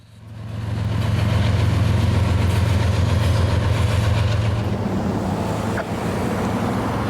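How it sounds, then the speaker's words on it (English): Long, heavy freight train L743 with a distributed-power locomotive grinds past near Tampa, a loud sustained engine drone and low rumble that swells in within the first second and holds steady, with no voices. "Today's L743 was long and heavy enough to need an N-train DPU."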